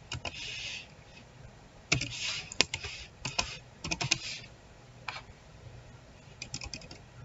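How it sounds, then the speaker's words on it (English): Steady typing on a computer keyboard while searching for a program in a web browser: bursts of quick, close key clicks with short pauses between them. "first go to Google and type in Scratch"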